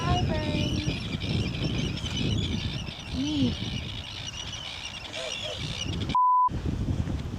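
Gulls or geese calling excitedly on Seltjarnarnes beach in Iceland, several bird honks and cries over steady wind and surf noise, with a brief electronic beep near the end.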